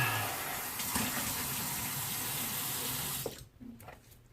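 A bathroom tap runs steadily while someone rinses off, a continuous close rush of water that cuts off abruptly near the end, leaving a few drips and small clanks.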